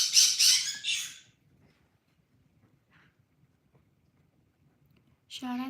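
Pet birds squawk loudly in a burst of harsh calls at the start, then go quiet before another squawk breaks out at the end.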